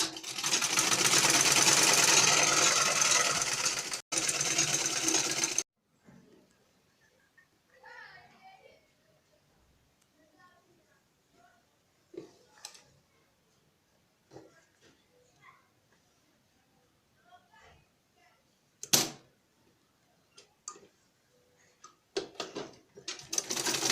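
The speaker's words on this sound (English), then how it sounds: "First of all, you will be sewing the edge of the material." Sewing machine running along the edge of a fabric piece for a pleated scarf base, a loud steady close whir for about five seconds, then quiet handling noises and scattered clicks with a few faint voices.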